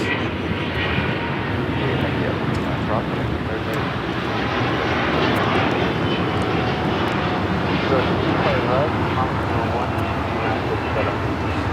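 Air Premia Boeing 787-9 Dreamliner taking off at Los Angeles airport, a loud, sustained, rumbling jet roar that holds steady throughout, with a person talking over it at times.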